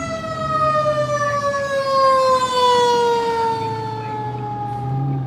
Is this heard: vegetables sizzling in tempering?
no